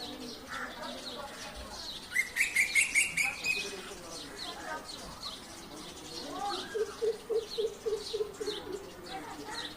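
A crow-like songbird calling from a tree outdoors, with bursts of clear repeated whistled notes and softer chirps between, moderately near, while someone talks now and then underneath.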